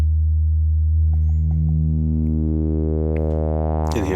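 A synthesizer sustains a steady, clean harmonic tone through an Imágenes stereo filter by Olivella Modular with its drive switched off, loud and continuous for about four seconds with brief faint blips near the end.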